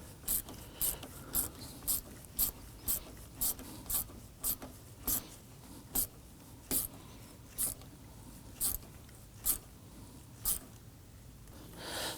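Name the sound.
tightening Nissan Murano AC condenser fastener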